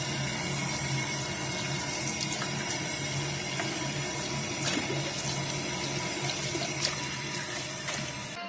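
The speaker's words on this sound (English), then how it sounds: "I'll take the rag again and rinse it out and wring it out with the hot water again." Hot water runs steadily from a tap as a rag is rinsed and wrung out in a sink, a constant close rush with small splashy bursts throughout.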